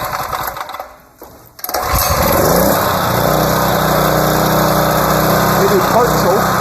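A small engine on part choke, warming up: after a brief quieter stretch with voices, it settles into a loud, steady, close running drone that holds evenly to the end.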